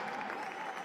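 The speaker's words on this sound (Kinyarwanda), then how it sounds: "amashyi menshi cyane tuyakoma ubutaruhuka" Audience applause fills a concert hall at BK Arena in Rwanda, a steady, dense wash of clapping that holds at an even level throughout the short stretch, with no break or pause.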